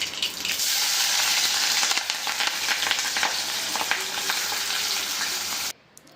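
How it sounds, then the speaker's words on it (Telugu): Cumin, mustard seeds, onion and green chillies fry in hot oil for bendakaya pulusu, a loud dense sizzle with light crackles and stirring that cuts off abruptly near the end; no talk. "మంచిగా వేగనివ్వాలి"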